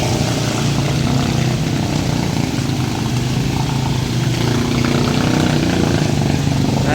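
A motor tricycle engine labours through salty high-tide flood water in Hagonoy, a loud, continuous low drone with a steady rumble that never lets up.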